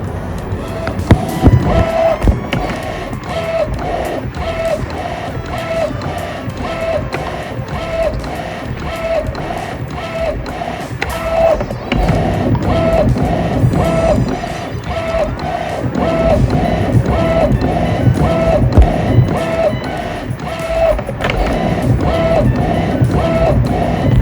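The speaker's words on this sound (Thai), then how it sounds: "นี่เริ่มพิมพ์แล้ว" An Epson SC-P703 printer printing on canvas paper gives off repeated mechanical clicks and whirring carriage passes in a steady rhythm, close and fairly loud, with faint background noise.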